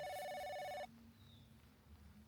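A video game phone rings with a loud electronic trill, one burst that cuts off abruptly, leaving a quiet ambient hum.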